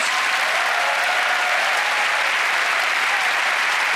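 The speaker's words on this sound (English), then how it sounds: "Give her a round of applause." Steady applause from an audience, dense and sustained clapping filling the whole stretch with no pauses.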